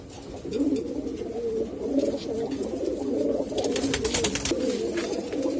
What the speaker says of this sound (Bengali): কবুতরগুলা অস্থির অবস্থায় আছে পুরো হিটে আছে একদম